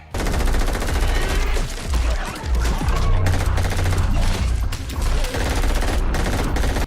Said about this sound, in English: firing hundreds and hundreds of rounds full auto without reloading